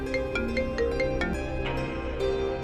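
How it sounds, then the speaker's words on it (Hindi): An incoming call on a phone rings out as a repeating electronic ringtone melody at moderate loudness, with no talking over it. "आलिया क्यों फोन कर रही है इस वक्त?"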